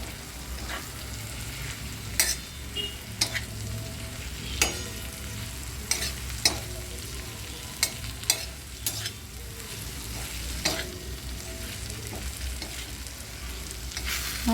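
Bitter gourd (karela) fries in a pan with a continuous close sizzle, broken by sharp scraping stirs of a spoon at irregular intervals.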